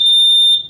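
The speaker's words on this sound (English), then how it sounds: "a house alarm is triggered" A baby box alarm at a fire station sounds as a loud, piercing electronic beep, one sustained high tone lasting under a second before it cuts off.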